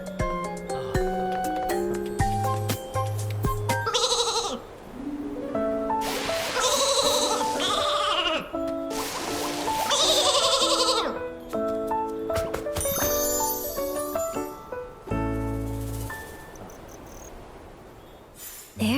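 Flora sheep bleating in the video game Infinity Nikki, several bleats amid game music and chirping ambience, with tonal chimes and louder bursts throughout, fairly loud and close.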